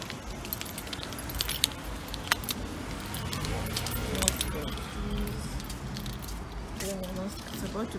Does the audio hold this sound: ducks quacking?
no